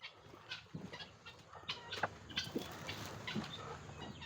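A Peruvadai breed rooster on a farm gives several soft, scattered clucks and short calls at mid distance over a low, steady outdoor background.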